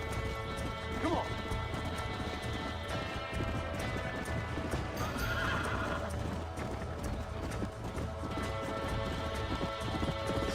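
A horse gallops in Red Dead Redemption, its rapid hoofbeats forming a dense, continuous rumble, loud and unbroken throughout, with a brief whinny rising near the start.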